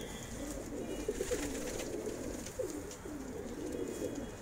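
Soft, low pigeon cooing repeats in a steady rolling pattern against a constant background hum, with no talking.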